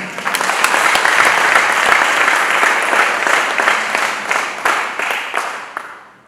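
A crowd breaks into loud, sustained applause, a dense wash of clapping that holds steady for several seconds and then tapers off toward the end.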